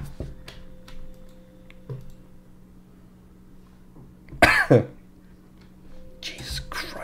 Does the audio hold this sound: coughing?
yes